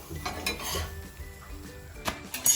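Cooked Kerala poratta is beaten by hand to loosen its layers. A few sharp slaps and thumps land irregularly, with faint clinks of kitchenware in between.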